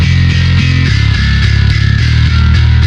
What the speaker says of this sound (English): And then finally I added some gin bass.